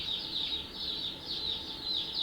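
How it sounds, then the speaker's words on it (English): Laying hens cluck in a coop, a steady run of repeated, fairly close clucks and calls with no talking. "We already got some laying hens"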